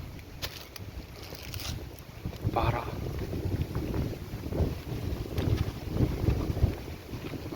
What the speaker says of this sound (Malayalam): നല്ല കാറ്റുണ്ട് കേട്ടോ നല്ല കാറ്റെന്ന് വെച്ചാൽ അടിപൊളി കാറ്റടിക്കുന്നുണ്ട്